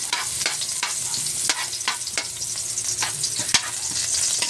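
Chicken frying and browning in a pan, with a steady loud sizzle under repeated sharp scrapes and taps of a utensil stirring the pieces, close by and without speech.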